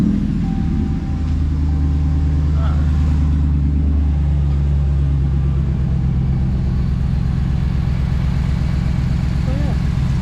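A Ram 1500 pickup with a 5.7 liter engine runs with a loud, steady low rumble that holds for the whole stretch, idling evenly with slight surges in pitch.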